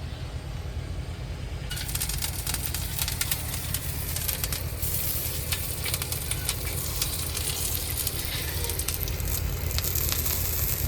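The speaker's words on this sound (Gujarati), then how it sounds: "હવે 3-4 મરચાં તળી નાખીએ" Green chilies fry in oil, probably in a truck driver's roadside cab kitchen, giving a steady broadband sizzle with crackling bursts and a constant low hum underneath; the clip holds no speech.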